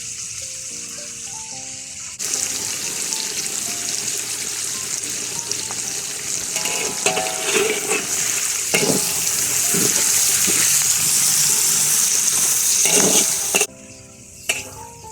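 Pounded ginger and garlic frying in a pan for ayam varuval, a loud continuous sizzle that swells after the first couple of seconds, with some stirring scrapes, then drops off sharply near the end.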